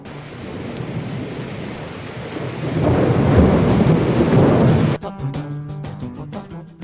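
A thunder-and-rain sound effect: steady rainfall swells into a deep, rumbling roll of thunder that builds and then cuts off abruptly, followed by soft music.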